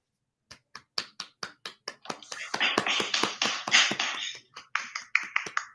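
Applause breaks out in a small room after a student's Vedic chanting: a few separate claps at first, building into dense group clapping around the middle, then thinning to scattered claps again.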